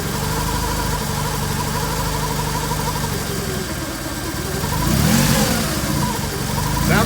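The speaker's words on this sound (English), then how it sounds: "Sounds okay when it's revving" A Honda car engine revs up, the pitch rising and falling through a swell near the middle, with a steady mid-range drone and a faint voice underneath.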